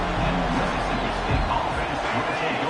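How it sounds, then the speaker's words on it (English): A stadium crowd at a college football game between Mississippi State and Georgia roars steadily in a dense, continuous wash of noise, with a commentator's voice over it. "The roar of the crowd trying to fuel this defense to keep them pinned in their own end"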